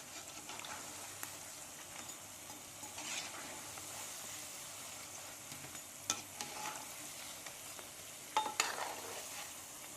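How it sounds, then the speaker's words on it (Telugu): Peanut curry being stirred and turned in a pan, a quiet low sizzle with soft scraping and a few louder clinks of the spoon against the pan, no talking. "దీన్ని జాగ్రత్తగా కలుపుకొని ఒకసారి తిరిగేసుకోండి."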